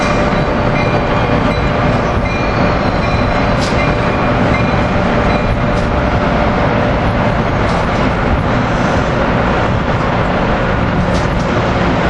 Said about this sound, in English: Here we've got Keystone Train 662 with Cab Car